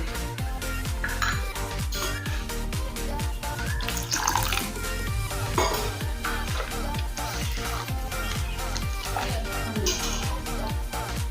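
Water is poured into thick poha idli batter, a continuous splashing, gurgling flow that stays fairly loud and steady throughout.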